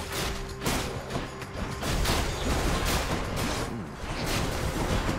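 Explosions in the video game Hades, loud dense bursts and rumbling blasts layered over busy game music and effects, continuous and close throughout.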